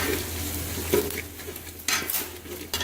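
Chicken with green chillies fries in a pot, a close sizzle under a low hum, with several sharp scrapes and clinks of a spoon stirring against the metal.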